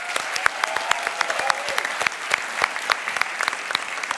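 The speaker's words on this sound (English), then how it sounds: "Let's do one more round of applause for all 3 finalists." A large crowd at the Imagine Cup World Championship finals gives the three finalists a sustained, full round of applause, dense and even throughout with a few sharper claps standing out.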